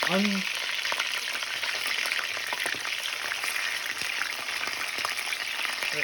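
Wolf turds frying in a pan with a constant dense sizzle and crackle, close up, occasional faint taps as pieces get flipped, steady level throughout with no speech.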